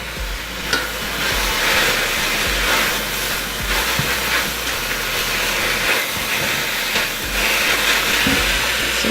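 Onions sizzle steadily in a hot pan as soy sauce is sprinkled over them for portobello mushroom sandwiches, a continuous loud hiss and crackle with no talking.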